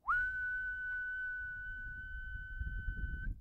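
A human mouth imitates a whistle with one sustained, clear high tone that slides up briefly at the start and holds steady for about three seconds, close and fairly loud over faint background rumble.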